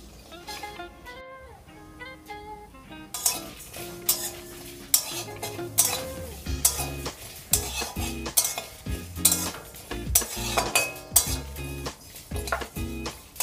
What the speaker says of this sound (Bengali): সমস্ত উপকরণ সুন্দর করে আমি শুকনো খোলায় ভেজে নেব